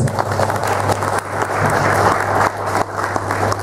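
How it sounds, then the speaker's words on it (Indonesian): A room full of people at a sharing session with railway enthusiasts claps together in sustained, dense applause, loud and even throughout with small dips in intensity. "Kita tepuk tangan dulu."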